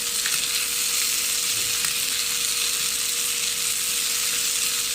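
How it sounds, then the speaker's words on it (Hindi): Vegetables fry in a pan while home cooking, giving a loud, steady sizzle and crackle that runs without a break, with no voices over it. "इनको भी अच्छे से फ्राई कर लेंगे 10 मिनट तक"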